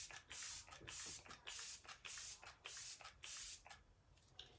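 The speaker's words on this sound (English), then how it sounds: "I'm gonna finish with the Let It Set Refreshing Spray" Arbonne Let It Set refreshing spray misted in five or six quick, even bursts with brief pauses between them, close to the mic and fairly loud, a final fainter puff trailing off at the end.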